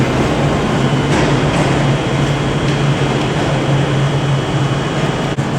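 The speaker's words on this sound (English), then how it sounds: "now departing is 385-039. Leading a service to Lanark." A Class 385 electric multiple unit pulls out of Glasgow Central station on a service to Lanark. It gives a steady, loud low hum and rumble with a constant drone and faint higher rattles, running alone without voices.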